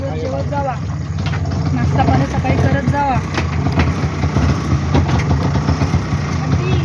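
An auto rickshaw engine runs and idles nearby in a Konkan village at Kasarde, a continuous low rumble with steady throb, mixed with people talking over it throughout.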